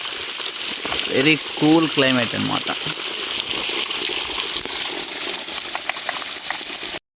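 Waterfall with low flow at a forest temple site rushes in a constant broadband wash, loud and unbroken throughout, while a person talks over it.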